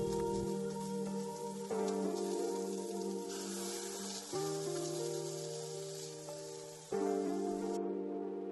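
Spinach, greens and onions for an omelet cook in a pan with a faint, steady crackling sizzle, like light rain on a surface. A few small clicks and shifts come through as the pan is handled.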